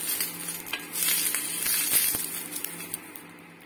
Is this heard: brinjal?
yes